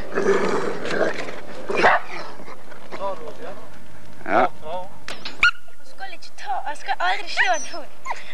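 A dog yips and whimpers with short high barks in the middle and latter part, recorded outdoors on Giske in 1988, mixed with people talking nearby throughout.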